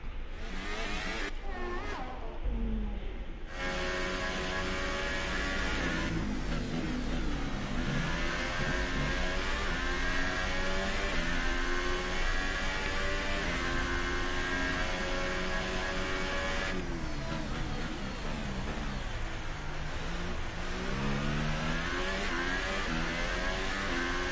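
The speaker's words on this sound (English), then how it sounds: "The gearbox is throbbing up as Hamilton comes in." Formula 1 car engine in the F1 2018 racing game at the Montreal circuit, a loud high-pitched whine revving up and down continuously through gear changes for the whole stretch, with no talk.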